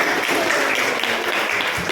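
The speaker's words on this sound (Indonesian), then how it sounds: "tepuk tangan untuk si Aisyah" A classroom of students claps for their classmate Aisyah, a dense, loud burst of many hands applauding together without pause.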